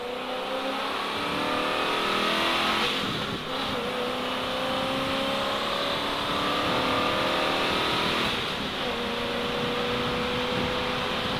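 A 1973 Ford Mustang Mach 1 V8 lapping a race track, its engine note rising and falling through gear changes at steady, moderately loud distance, with no talk.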